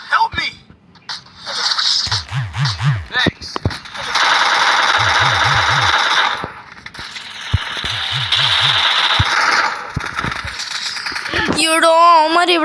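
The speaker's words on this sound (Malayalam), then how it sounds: "എവിടെ നിന്നൊക്കെ വെടി വെച്ചടാ" Rapid automatic gunfire from the Free Fire mobile shooting game crackles in two long sustained bursts, loud and close, with a player's voice talking over the action.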